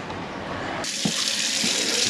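A kitchen tap is turned on partway through and keeps running in a house with all other taps off. It gives a steady, close, hissing stream of water into the sink with no talking.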